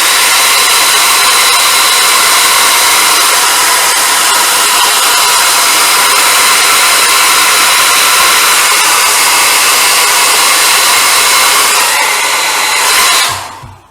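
A hair dryer blowing at close range to dry paint on a Star Trek Klingon D7 battle cruiser model kit: a loud, steady whooshing hiss with a faint motor whine, running continuously before cutting off at the end.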